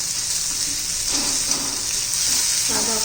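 Chopped onions fry in a pan for a methi bhaji, giving a steady, close sizzling hiss for the whole stretch with only slight swells and no talk over it.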